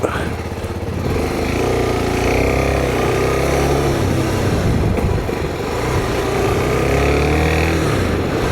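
A Suzuki DRZ 400 SM supermoto motorcycle being ridden, its single-cylinder engine droning steadily and loudly with slight rises and falls in pitch, close to the rider throughout.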